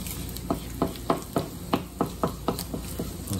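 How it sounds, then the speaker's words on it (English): Sea robin roe frying in a pan while being stirred, with a steady sizzle under a regular series of about nine scraping stir strokes, close and fairly loud, with no talking. "Cook the yolks a little more."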